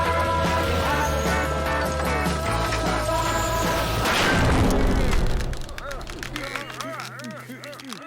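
A cartoon explosion of nitroglycerine booms loudly amid a busy soundtrack, followed by a crackling, debris-like rush and rattling that gradually fades.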